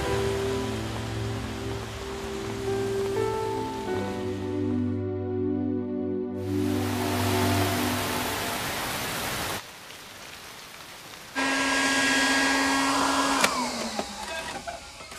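Rain falls in a steady broadband hiss that comes and goes in sections and mixes with sustained musical tones, with no voices.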